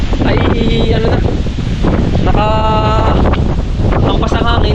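Strong storm wind gusts batter the microphone with a loud, continuous roar, while voices talk over the blustery rush throughout.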